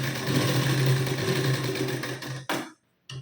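A sewing machine runs steadily, joining the parts of a katori blouse, a close, loud continuous hum and rattle that slows and cuts out, followed by a short silence and a brief restart.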